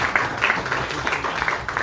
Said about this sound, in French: Si on peut les applaudir un peu, ça va.